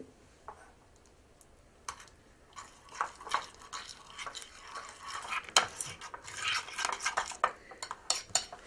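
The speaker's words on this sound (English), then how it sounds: "I'm going to stir in about a half a cup of heavy cream." Heavy cream is stirred into tomato sauce in a pan, with a utensil scraping and clinking softly against the pan in an irregular rhythm that grows busier toward the end; close and fairly quiet, with no talking.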